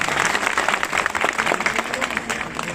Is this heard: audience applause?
yes